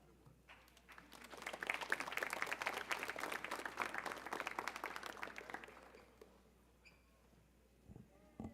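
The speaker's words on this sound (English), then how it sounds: "thank you for clapping for me 3 times" Applause from an audience at a school honors assembly swells into a dense, steady clapping for several seconds, then thins and fades away, heard alone without talk.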